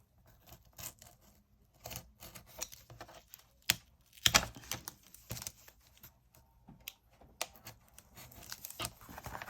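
Scissors or a small blade cutting and pulling tape off a cardboard box: scattered soft snips, scratches and tearing crackles, fairly quiet and close, with a couple of sharper clicks.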